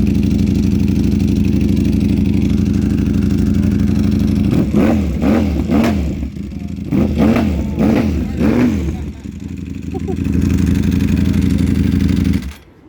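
Kawasaki Ninja H2 motorcycle at a dealership event, idling loudly up close, then blipped through several sharp revs in quick succession before settling back to idle and cutting off.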